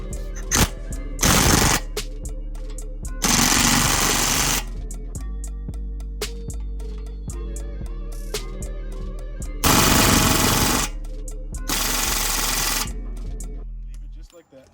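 Impact wrench tightening the front axle nut on a 2009 Honda Accord's passenger side, several loud rattling bursts of differing length separated by pauses, with shop noise between.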